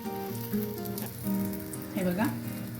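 A ghee-brushed triangular paratha cooks on a nonstick tawa over a low flame, giving a soft, steady sizzle beneath sustained tonal background sounds and a voice.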